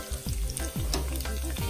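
Salt fish with garlic, scallion and habanero sizzling and frying in hot oil in a pot, a steady close crackle with a few stirring scrapes, no talking.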